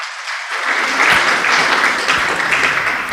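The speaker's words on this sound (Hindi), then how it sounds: "भाई दिलबाग जी के लिए आप लोग एक बार जोरदार तालियां बजाएं" An audience at a youth conference in a hall breaks into loud, building applause for a young man, dense clapping rising quickly and holding steady.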